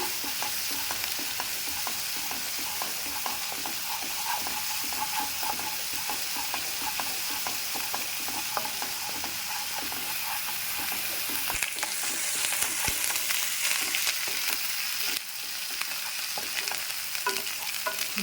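Onion paste and ginger-garlic paste fry with mutton liver in a pan, a close, dense sizzle with constant stirring scrapes for a long stretch, with no voices.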